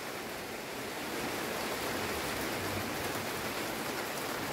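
Rain falls as a dense, even hiss of drops, steady and moderately loud throughout with no speech over it.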